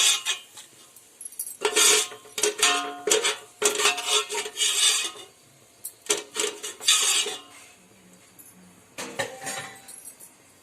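Raw marinated chicken going into a pan for homemade dum biryani, heard as repeated metallic scraping and clattering of a spoon against the pan in uneven bursts, fairly close, with no talking.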